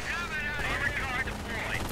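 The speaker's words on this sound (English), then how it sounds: "Stopped here by the machine gun." Machine gun fire rattles steadily in a World War II strategy video game, mixed with battle noise and running under a commentator's voice.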